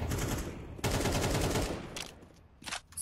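Rapid automatic gunfire from the video game Counter-Strike 2 rattles out in dense bursts, loud and crisp, with a brief pause before a few shorter trailing shots.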